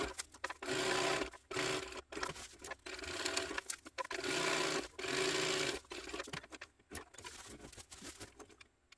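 A sewing machine back stitches along the seam of an overnight-size Oxbow tote bag in short bursts of rapid whirring, separated by brief pauses and small clicks.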